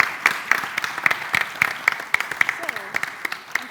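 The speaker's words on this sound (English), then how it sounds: "Applause for Diana." A small group at a conference award presentation claps for a recipient, sparse distinct handclaps in an uneven rhythm, fairly close, with occasional murmured voices underneath.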